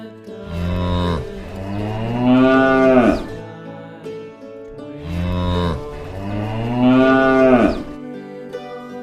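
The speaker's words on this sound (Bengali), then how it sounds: "গরু বাছুর দাঁড়িয়ে আছে।" A cow with a calf standing nearby gives two long, loud, drawn-out moos, each rising and then falling away, separated by a short pause and heard close up with no other sound.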